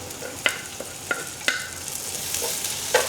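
Garlic sizzles in a hot pan for chicken arroz caldo, a steady frying crackle broken by a few sharp stirring scrapes, close and clear with no talking.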